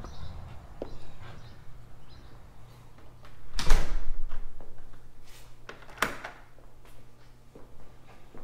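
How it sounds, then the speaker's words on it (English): A house door leading in from the garage opens and closes with a few soft clicks and one louder thump midway, over a low background hum. No one speaks. "Now this is a door coming in from the garage."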